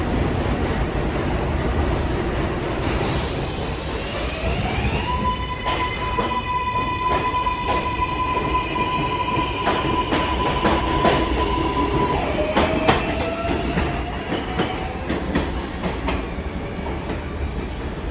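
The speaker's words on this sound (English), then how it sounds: "Flushing Main Street bound 7 local train." An R188 7 local subway train on the Flushing line runs through an elevated station, its wheels clattering and rumbling while a steady electronic tone and rising motor whines sound over continuous track noise, with a few sharp clicks and squeals near the end.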